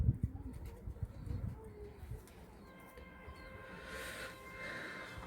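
Soft domestic pigeon cooing murmurs in the background amid low rumbling noise, faint and somewhat distant, with a humming drone building toward the end.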